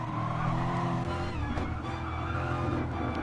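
A Corvette race car in GT Sport clips a curb and spins, giving loud, continuous engine roar mixed with tire scrubbing and skid noise for a few seconds, with no talk.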